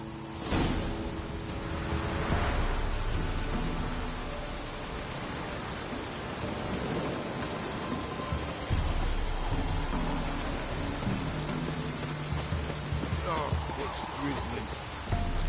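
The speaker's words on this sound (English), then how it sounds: "Proper downpour this is." Heavy rain in The Witcher 3: Wild Hunt pours steadily in a dense, hissing downpour, with low rumbles and faint voices mixed underneath throughout.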